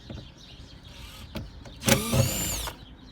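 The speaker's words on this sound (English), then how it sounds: "now we need Phillips screwdriver" A Phillips screwdriver works bolts out of a Toyota RAV4 door panel, with a few sharp clicks and scrapes followed by a loud, brief whirring squeal up close.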